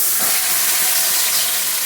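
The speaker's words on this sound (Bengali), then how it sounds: "দিয়ে দিচ্ছি কড়াইতে কচুটা।" Taro (bishkochu) for a vegetarian dish hits a hot oiled wok, setting off a loud, close, continuous hissing sizzle with no pause.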